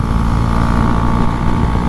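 A Husqvarna Svartpilen 401 motorcycle engine drones loud and close while riding at speed, with a steady, even note and no pause or clear break in its tone.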